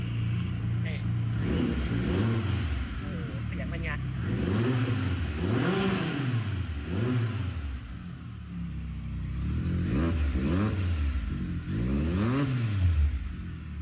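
A Can-Am Spyder F3 Limited three-wheeler with its Rotax 1330cc inline three-cylinder engine idles and revs in repeated rising and falling swells, close and steady throughout, with someone talking over it.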